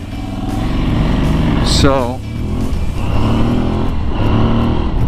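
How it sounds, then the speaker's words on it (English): The Aprilia Tuareg 660 parallel-twin engine revs and pulls through the intake, steady and loud up close, with someone talking over it. "the intake on this bike sounds so cool, just like the other 660s."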